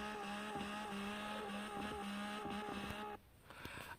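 A car in the CarX video game is held at full throttle against its rev limiter, a loud, steady buzzing drone that pulses rhythmically, then cuts off abruptly near the end as the engine drops away.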